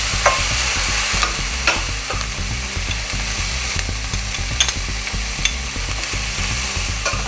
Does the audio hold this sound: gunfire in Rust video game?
no